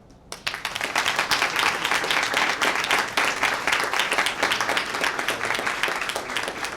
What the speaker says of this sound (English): if we could just get a big round of applause for all these kids